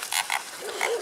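A pig grunts and squeals outdoors near bushes, a short burst of two or three close, fairly loud snorting calls.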